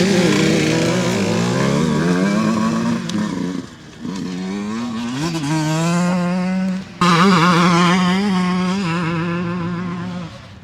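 Several Beta 125-200cc two-stroke dirt bikes ridden nearby, engines revving loud and continuous with rising and falling pitch through gear changes, two brief dips as throttles close.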